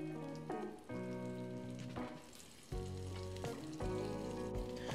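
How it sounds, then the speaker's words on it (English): Speckled trout fillets sizzle and crackle steadily in hot oil, a constant close frying hiss with tonal music-like hum running alongside it. "while that fish is frying up"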